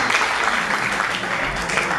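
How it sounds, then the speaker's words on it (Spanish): Audience applause at a conference on inclusive education, steady dense clapping from many hands heard at moderate distance for about two seconds. "Un aplauso para el"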